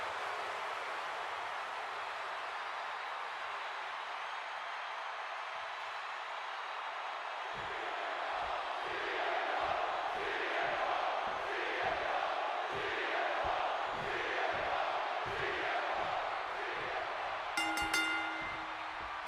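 In the WWE 2K26 video game, a WrestleMania arena crowd roars steadily. Midway it swells into a rhythmic pulsing cheer, and a brief bright tone sounds near the end.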